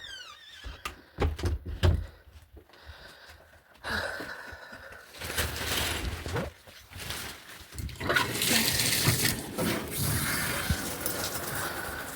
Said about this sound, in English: I'm gonna run the water for you.